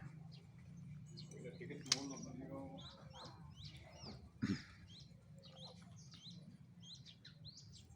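Faint chirps and short tweets from a young white-rumped shama, a fledgling, scattered through steady background noise, with a couple of sharper clicks.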